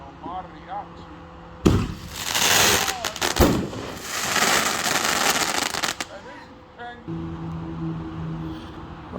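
Artillery shell fireworks test-fired in Puyallup, Washington burst in a loud crackling, booming sequence lasting several seconds, with sharp reports and dense crackle before fading, outdoors, with people talking around it before and after.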